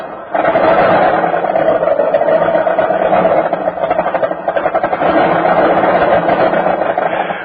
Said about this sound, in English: Bucking and sputtering like that is a pretty unpleasant way to start off the day